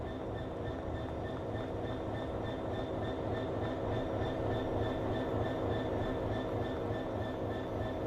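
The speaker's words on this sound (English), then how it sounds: "we want to see the freight train leave" A freight train in Train Sim World 3 on the Glossop Line pulls away from a station, giving a steady, continuous rolling rumble with a sustained whine and tonal hum.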